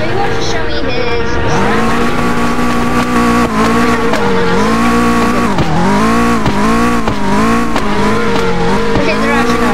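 A Ferrari drifting in the Roblox game Red Line Drifting: a loud, continuous engine roar with tire squeal, the pitch rising and falling as the car slides, heard close and steady throughout.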